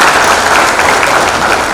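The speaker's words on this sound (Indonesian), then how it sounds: "Tepuk tangan dulu." Audience applause fills a graduation ceremony hall at a college commencement, a steady, dense wash of clapping that stays loud and even throughout with no pauses.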